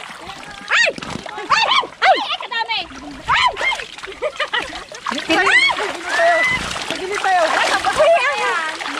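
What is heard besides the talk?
tilapia splashing in fishpond water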